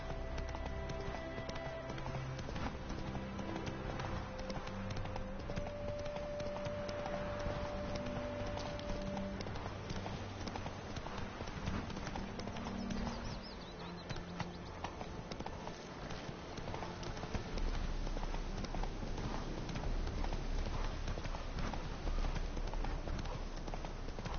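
Roach, the horse in the video game The Witcher 3, gallops steadily in a continuous rhythmic clip-clop of hooves, close and prominent over game ambience, with a brief faint voice.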